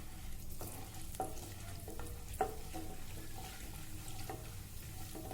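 Mustard seeds, cumin, urad dal and chana dal fry in hot oil for a carrot fry, giving a steady sizzle with a few sharp pops and crackles throughout, close and continuous, with no voices.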